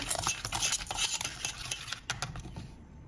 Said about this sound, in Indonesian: Selanjutnya ini aduk-aduk sebentar.